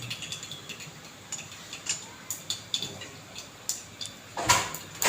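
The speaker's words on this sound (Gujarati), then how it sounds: "રાઈ કકડી જાય એટલે જીરું નાખશું" Mustard seeds pop and crackle in hot oil, a faint stream of small, sharp, irregular ticks heard close and alone.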